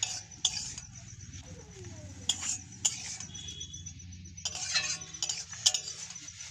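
A spoon scoops fried potatoes and peas out of a wok, producing scattered metallic clinks and scrapes against the pan, some sharp and close, over a quiet low background hum.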